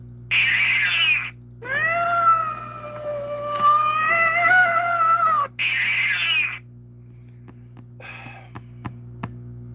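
Several drawn-out cat meows, some high and strained, others long and wavering, loud and close, with short pauses and faint clicks between them.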